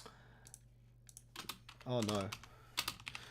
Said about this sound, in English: So I'm going to be busy typing stuff.